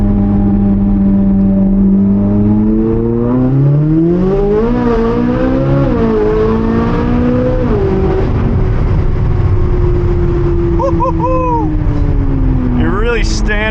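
A Corvette C8 Z06 with its exhaust valves open in sport mode snarls through repeated revs, the engine note climbing and falling in loud sweeps, then settling before a few sharp, rising blips, with people talking at times.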